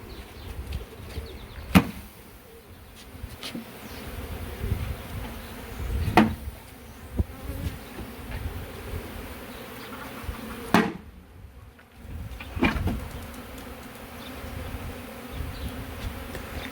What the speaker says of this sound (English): you're just listening to all the bees in the air